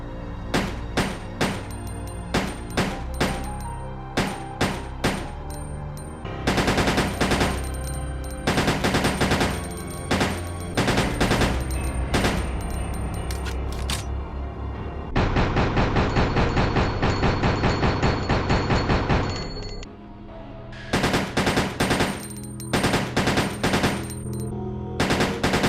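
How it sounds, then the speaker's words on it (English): Custom handgun in burst-fire mode in Resident Evil Code Veronica X, loud close three-round bursts repeating in quick succession, with longer sustained volleys in the middle and no voices. "It can be adjusted to fire 3 bullets in succession."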